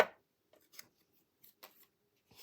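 Scissors snip off excess paper on a craft journal piece: a few quiet, separate clicks and crisp cuts spaced across a couple of seconds in a still room.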